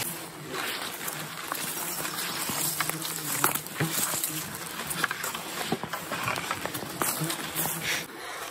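Insects buzz continuously at the end of a canoe portage, a dense steady hum of flies and bees close around, with faint rustling and movement through the whole stretch.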